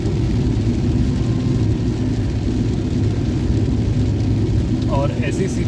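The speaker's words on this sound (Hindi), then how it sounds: "गाड़ी की ये जो इंजन की ही आवाज़ है इतनी मीठी मीठी ना" Steady low car engine drone and road rumble from inside a moving car on the Bundelkhand Expressway, loud and continuous throughout, with brief faint chirps near the end.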